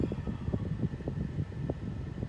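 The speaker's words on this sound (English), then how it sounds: "Oh, that was a good gust." Strong wind gust from a tropical storm squall band over Tampa Bay, St. Petersburg, Florida: a steady, loud broadband rush buffeting the microphone throughout, with no voices.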